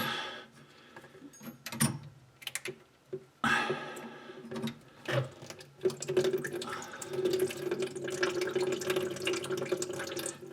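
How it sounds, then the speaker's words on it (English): Water drains from a faucet removed during a bathroom remodel, irregular splashes and drips settling into a steady trickle, with scattered clunks and no talking. "Drain that out of the faucet before I drag it around the house."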